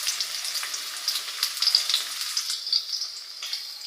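Chopped onion sizzles and fries steadily in a hot pan for pasta, a close, continuous hiss with small crackling pops and no talking.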